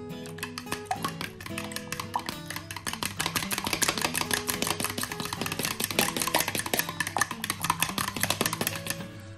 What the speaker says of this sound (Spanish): Y ahora con un tenedor lo batimos bien.